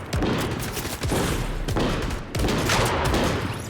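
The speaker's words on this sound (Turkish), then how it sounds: "Sen sık oradan." Rapid bursts of gunfire in a Fortnite match, loud and dense shots rattling in quick succession with brief gaps around one and two and a half seconds, no talking.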